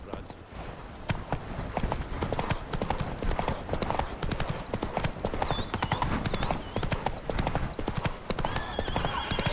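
Roach, the horse in The Witcher 3, gallops along with a rapid, steady clip-clop of hooves throughout and occasional whinnies, with game speech mixed in.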